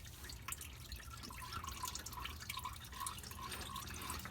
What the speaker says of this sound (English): There's oil coming out of it right here.